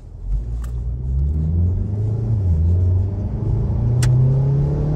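A 2013 Ford Focus launches hard during a clutch test. The engine rumbles loudly and revs in rising and falling sweeps, close by, with a sharp click near the start and another partway through.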